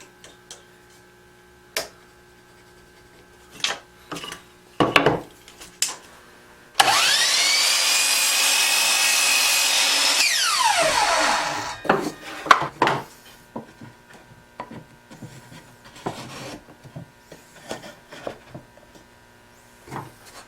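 Power saw cutting wood pieces for a homemade soap mold in a workshop: a loud, steady whine of about three and a half seconds that winds down, set among scattered knocks and handling clatter.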